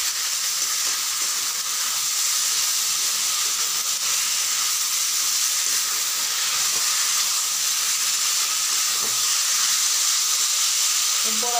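Drained taro leaves frying in a pan for a shrimp dish are stirred under a steady, loud broadband sizzle and hiss that carries on evenly throughout, with no talking.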